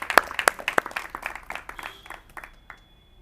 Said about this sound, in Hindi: एक बार जोरदार तालियां आप सभी की बजें।